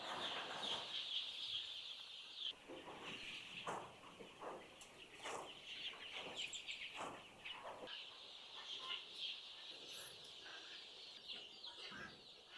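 Native country chickens cluck and murmur on a farm, many birds close by in a busy ongoing chorus with soft footsteps and scratching.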